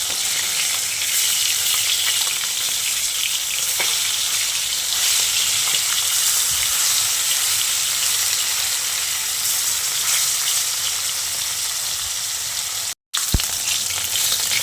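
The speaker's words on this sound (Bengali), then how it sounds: "এবার মাছটাকে উল্টে পাল্টে একটু লালচে করে ভেজে নেব।" Marinated rohu fish fries in hot mustard oil with a loud, continuous close-up sizzle that holds steady throughout, broken only by a brief gap near the end.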